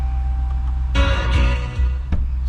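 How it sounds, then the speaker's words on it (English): A new truck's engine starts by push button: it catches about a second in with a low rumble and a brief surge, then settles into a steady idle, with no talking. "I put my foot on the brake, press the button, and away she goes."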